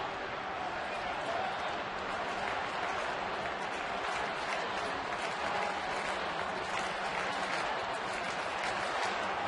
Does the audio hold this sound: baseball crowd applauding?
yes